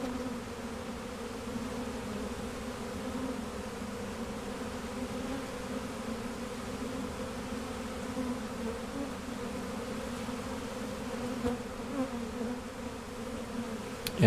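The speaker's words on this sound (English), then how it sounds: "this is a sizable swarm" A dense, steady buzz of a large honeybee swarm humming together, continuous and fairly soft, with no voices.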